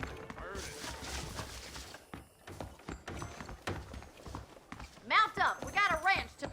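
Horse hooves clip-clop in Red Dead Redemption, a steady walking beat under people talking, with a burst of louder tonal sound toward the end.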